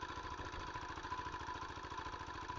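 A Jiangfa diesel engine drives an NS 100 water pump for irrigating sugarcane, running steadily with a fast, even rhythmic chug and a constant mechanical drone, heard at moderate distance without talk.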